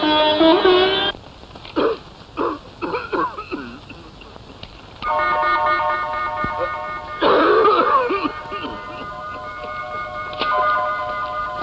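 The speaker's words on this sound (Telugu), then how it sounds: "ఈ ముసలాయన పగలు రాత్రి ఇలా దగ్గుతూ అందరి ప్రాణాలు తీస్తున్నాడేమిటి" An old man coughs repeatedly in short, harsh bursts early on, then some vehicle horn-like tones and background noise follow.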